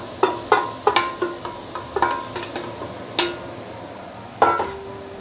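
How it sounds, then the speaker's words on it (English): A spoon stirring and scraping washed jasmine rice in a metal pot over a low sizzle, a series of sharp clinks and scrapes at irregular intervals, close and clear with no talk. "Now, I'm going to put it in the washed jasmine rice."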